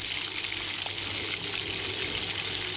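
Poa river fish frying in hot salted mustard oil in a home kitchen, giving a steady, bright, close sizzle that never breaks, with no voices.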